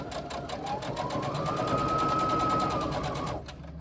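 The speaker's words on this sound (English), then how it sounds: "we stitch all along the long edge again" A sewing machine stitches along the long edge of a tote bag with a quarter-inch seam, a steady close whirring hum for just over three seconds before it stops.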